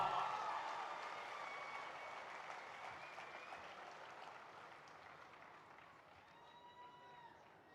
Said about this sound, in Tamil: நல்ல ஒரு கைத்தட்டல் தந்து ஃபாதரை கூப்பிடலாமா?